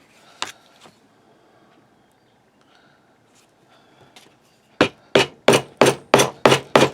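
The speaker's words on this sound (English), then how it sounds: "hammering through with the awl if you want to use an awl" An awl is hammered through leather to make a sheath: after a quiet stretch with a faint knock or two, six sharp, evenly spaced hammer strikes ring out close and loud.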